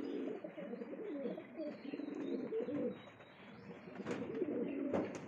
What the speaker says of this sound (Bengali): এই যে মাদাটা খুবই ছটপটে, ঠিক আছে, এই যে মাদি পায়রাটা